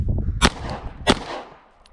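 Two sharp Glock 45 pistol shots fired weak-handed at an outdoor range drill, loud and close, about two-thirds of a second apart, each with a short echoing tail.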